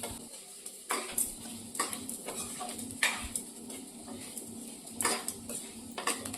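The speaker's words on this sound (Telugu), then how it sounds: "ఇప్పుడు వీటన్నిటిని ఫ్రై చేసుకోవాలి." Cumin, coriander seeds and tamarind are fried in a pan, with repeated sharp clinks and scrapes of a spoon stirring against the metal over a faint, quiet sizzle.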